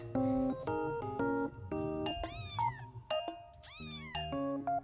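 Mixed Siamese (Wichien Maat) cat meowing repeatedly and close, a string of short, clear, varied meows with a couple of longer rising-falling cries, alone with no talk.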